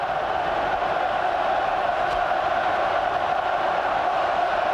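A packed stadium crowd roars at a 2001 rugby test match between Australia and the British & Irish Lions, a loud, dense and continuous wall of cheering with no break or talk over it.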